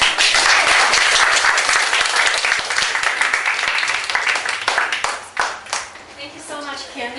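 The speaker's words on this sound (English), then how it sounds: "Everyone can give her a round of applause." Dense audience applause at a 4-H vegan cooking workshop, clapping steadily for a guest chef, then thinning out as a voice starts speaking near the end.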